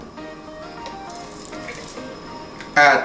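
Hot oil hitting chili in a stone mortar gives a sudden loud sizzle near the end, after a quieter stretch of low kitchen hiss.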